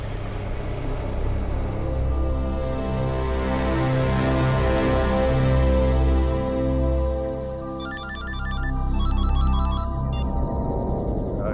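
A phone ringtone plays continuously for several seconds, loud and melodic, with a repeating electronic trill near the end and no talking.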